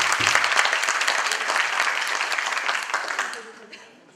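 An audience applauds the programme president at a startup competition event, a burst of dense clapping that holds steady for a few seconds before fading away, with a voice speaking faintly over it.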